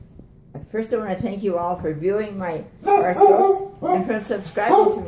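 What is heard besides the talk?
dog barking and whimpering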